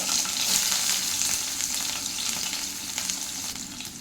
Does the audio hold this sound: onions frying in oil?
yes